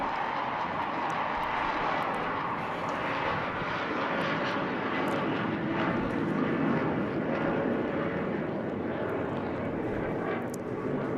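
Aircraft engine at the Eastbourne International Airshow droning steadily overhead as the plane flies a very slow barrel roll, a continuous moderate roar without voices.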